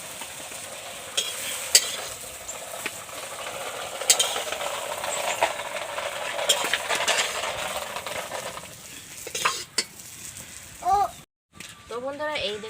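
Soybean chunks, potato and paneer fry in a pan with a steady low sizzle and scraping stirs. Someone talks and clatters over the frying, and the sound breaks off briefly near the end.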